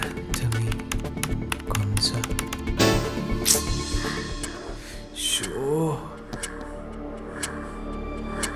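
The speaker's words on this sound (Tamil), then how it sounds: "என்ன டைப் பண்ற?" Rapid, uneven key taps on a computer keyboard mix with background movie sound and music.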